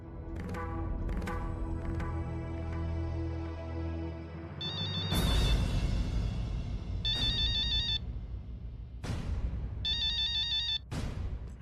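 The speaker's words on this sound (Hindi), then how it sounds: "फोन नहीं उठा रही?" A phone ringtone plays a repeating electronic melody that rings out several times in a quiet room and is never answered.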